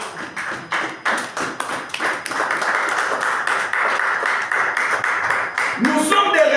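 A church congregation claps rhythmically in acclamation of Jesus, steady loud hand claps in a repeating pattern that lasts the whole stretch, with voices underneath.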